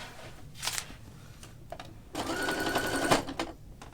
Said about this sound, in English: I'm gonna just top stitch through the gathers